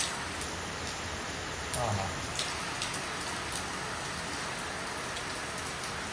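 Steady rain patters on a surface, a constant hiss of drops with a few louder splashes, even and unbroken throughout.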